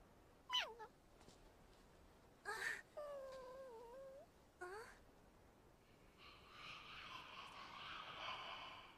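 A cat meows several times in rising and falling calls, close and fairly clear, followed by a burst of brighter noisy sound near the end; a voice is briefly heard among the meows.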